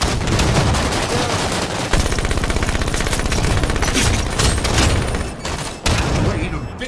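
Dense enemy gunfire in a first-person shooter video game, rapid automatic bursts and overlapping shots rattling continuously and loudly, with grenade-like booms and battle noise filling the scene throughout.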